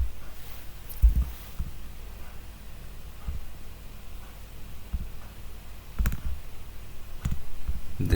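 Sharp mouse clicks on a computer button, a few isolated clicks spread across a quiet room with faint background hiss, the loudest near the start and later ones spaced several seconds apart.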